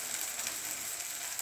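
Batter frying in a pan of hot oil gives a continuous soft sizzle, steady and fairly quiet, heard alone without voices.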